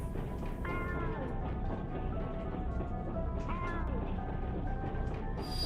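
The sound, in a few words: cat meowing in a video game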